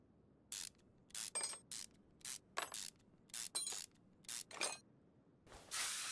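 A ratchet wrench works a rusty bolt on a car engine in a series of short, crisp clicking bursts with brief pauses between strokes, close and fairly quiet, ending in a longer hissing rasp.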